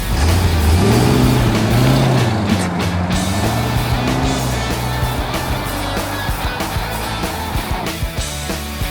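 Car driving on a road trip through Virginia, a steady engine hum with a rising and falling revving tone near the start, then settling into an even cruising drone with road rumble.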